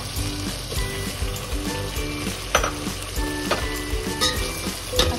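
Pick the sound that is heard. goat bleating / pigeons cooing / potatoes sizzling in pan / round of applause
potatoes sizzling in pan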